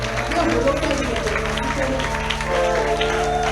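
A church congregation acclaiming the Lord with a sustained burst of clapping and cheering, a dense crowd sound over low music and voices.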